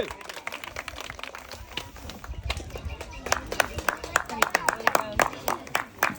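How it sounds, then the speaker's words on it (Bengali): An audience claps for a prize winner at a game show where players roll a ball across a board; sharp, irregular clapping builds and grows denser toward the end, mixed with voices talking. "সবাই একটা জোরে তালি হবে"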